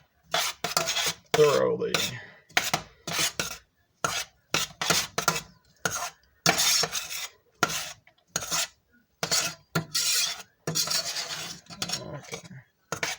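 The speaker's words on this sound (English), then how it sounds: "Okay, let's stir this." A spoon scrapes and clinks around a pot of seitan broth with tofu, sweet potato and pumpkin in a series of short rhythmic stirring bursts separated by brief pauses, close up, with a brief spoken word.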